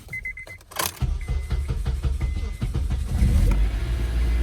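A Dodge Charger GT with roughly 300,000 miles gives a few clicks and a warning chime, then the engine cranks in a rapid rhythmic churn and catches, settling into a louder running rumble.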